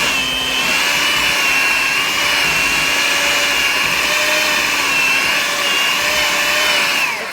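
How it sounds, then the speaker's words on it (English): An electric hand mixer runs steadily and loudly, beating a chocolate-peanut butter frosting in a home kitchen, its motor whine holding level throughout with no pauses. "Still throwing my mixer really all over the place"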